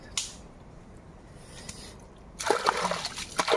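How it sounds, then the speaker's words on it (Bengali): Water splashes and sloshes in a crab hole dug into Sundarbans mud, a wet splat at the start, then quiet trickling before a burst of louder close splashing. "ওই জল বেরোচ্ছে মাঝে মাঝে আবার"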